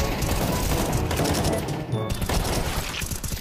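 Rapid bursts of gunfire from a Counter-Strike 2 match fill the whole moment, loud and nearly continuous, with overlapping shots and a brief lull near the middle.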